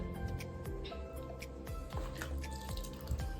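Water sloshes and drips as soaked, dusty curtains are swished and wrung by hand, with irregular splashes and trickles close by.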